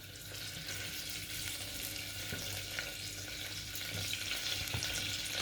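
Curry leaves dropped into hot oil give a steady, bright sizzle and crackle, close and continuous for several seconds with a few small pops, and no one speaking.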